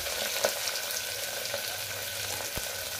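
Green chillies and onions sizzle in hot oil with biryani spices, a steady close frying hiss broken by occasional sharp pops and a stir or two.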